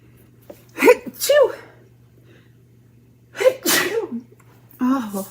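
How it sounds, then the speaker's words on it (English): Two loud sneezes by a person close up, each preceded by a sharp gasping inhale, with a steady low hum in the background and a breathy vocal sound at the end. "my two sneezes every time I go live"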